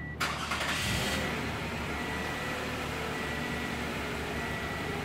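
A car engine started by a Viper remote starter catches with a brief crank at the start and settles into a steady idle hum that continues without any talk.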